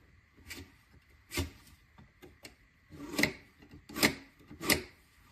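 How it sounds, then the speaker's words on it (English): A flathead screwdriver tip scrapes across a surface while crudely scribing a line during O scale model railroad layout work, giving several short, separate rasping strokes, close and fairly quiet. "I'm just going to kind of crudely scribe with my same flathead."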